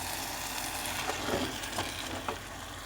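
Chopped zucchini sautéing with tomato paste in a pan: a steady, soft sizzle and crackle, with a few light clinks of stirring and no talking.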